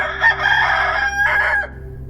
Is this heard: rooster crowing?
yes